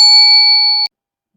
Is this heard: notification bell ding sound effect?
yes